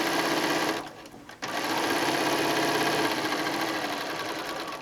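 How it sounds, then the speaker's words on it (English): A Bernina sewing machine with a 1/4 inch quilting foot stitching down the edge of quilt fabric, a steady close mechanical whir that stops briefly near the start and then resumes continuously. "And off we go, stitching down our edge."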